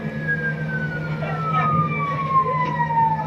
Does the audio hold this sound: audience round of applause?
no